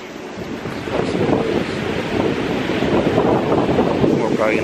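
Ocean surf at a beach in Puerto Rico, a continuous loud roar of breaking waves mixed with heavy wind buffeting the microphone, with no clear voices.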